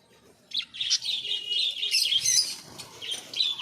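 Java sparrows, a white pair and a black pair, chirp in a Murshidabad bird shop: a dense run of high, bright tweets that starts after a brief quiet moment and keeps going close by with no talking.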